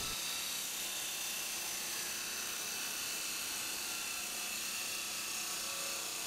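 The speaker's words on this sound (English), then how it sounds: "So I set up my chop saw on a really steep angle here." A chop saw cuts exhaust tubing set at a steep angle for a 2.25-inch to T4 turbo merge collector on a 1973 Camaro LS build, heard as a continuous loud, high grinding whine that never lets up.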